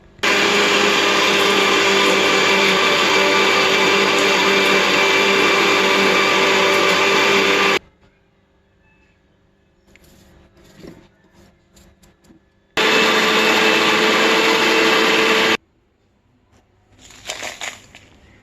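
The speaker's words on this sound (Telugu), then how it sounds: "మిక్సీ వేద్దాం" Loud, steady whirring of a mixer grinder runs for several seconds, stops, then runs again in a second burst, with brief handling noises in the pauses.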